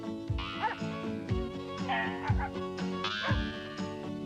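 Several dogs bark in short, punchy bursts in an Australian Lucky Dog canned dog food commercial, with yips and whimpers riding over a bright, busy music bed, each bark sharply separated from the next.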